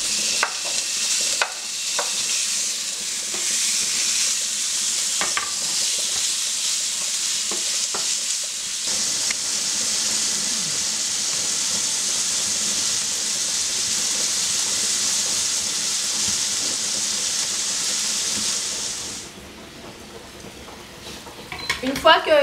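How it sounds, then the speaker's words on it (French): Lamb pieces browning in a frying pan with onion and garlic give a steady, loud sizzle that holds for about nineteen seconds, then drops away, leaving quieter clinks and stirring at the end. "on va aller déposer l'agneau dans la poêle de manière à le rissoler sur chaque face"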